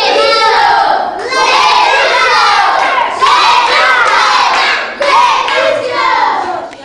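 A classroom full of schoolchildren cheering and shouting together, a dense, loud burst of young voices that dips briefly and surges back several times.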